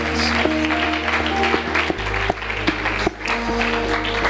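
A church congregation claps in acclamation during worship, scattered hand claps sounding over sustained musical tones, moderately loud and uneven in rhythm.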